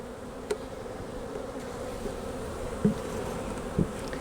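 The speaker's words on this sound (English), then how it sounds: "Look at all those bees coming back from the field." Honey bees buzzing around an open hive during a hive body rotation, a continuous low drone with individual bees zipping close past now and then, louder brief passes standing out from the steady hum.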